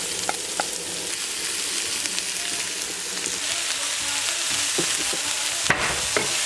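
Onion frying in hot coconut oil with spluttering seeds for English spinach kootu, a steady dense sizzle with a few sharp pops and light clicks running throughout, close and fairly loud, no voices.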